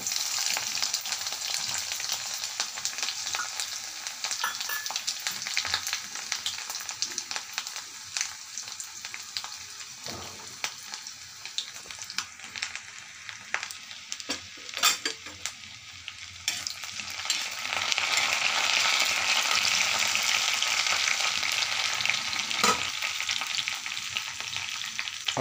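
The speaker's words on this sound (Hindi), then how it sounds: "अब इसे हल्का सुनहरा होने तक भूनेंगे।" Garlic, ginger and onion fry in hot oil in a kadhai for a dhaba-style mushroom dish, giving a steady, loud sizzle with occasional stirring scrapes and clatters throughout, no talking.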